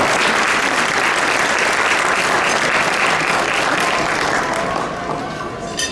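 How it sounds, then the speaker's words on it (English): Guests at an annual community dinner give loud, close, sustained applause that thins and fades in the final seconds. "So a big round of applause to them as well."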